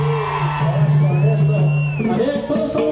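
A loud concert crowd whoops and yells for a band, with shouted voices and a sustained tone riding over the noisy hall.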